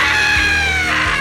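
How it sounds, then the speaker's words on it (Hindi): A boy screams loudly in a Hindi horror cartoon as a water witch rising from a pond grabs him by the neck, a sustained shrill cry lasting over a second with no other voices. "अर्चित जोर से चीखता है"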